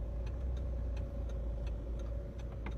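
Inside a car reversing slowly out of a spot with limited visibility, the engine holds a steady low hum while a regular ticking, likely the indicator, repeats throughout; no one speaks.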